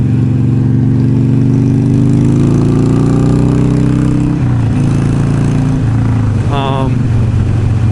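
Motorcycle engine fitted with a Barnett clutch, running loud and close as it revs and drops through downshifts, the pitch sliding and stepping between gears, with a rider talking over it.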